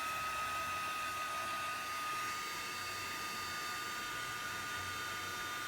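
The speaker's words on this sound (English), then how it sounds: "we're going to grab our heat gun again" A heat gun blows steadily to melt embossing powder on MDF or chipboard for card making, giving a constant close airy whoosh with a faint electric whine, alone and unbroken throughout.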